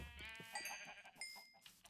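Sheep bleating in a video game, a few wavering nasal bleats overlapping one another, faint and somewhat distant, with no talk.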